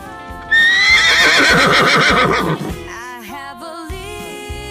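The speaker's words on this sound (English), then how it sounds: "Horse." Loud, close horse whinny with a long quavering neigh lasting about two seconds, followed by softer snorting, breathy sounds and light background music.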